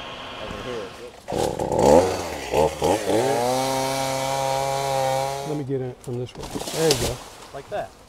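A chainsaw revs and drones loudly for several seconds while cutting into a hollow pine tree, pitch steady then dropping, with brief bursts of talk around it.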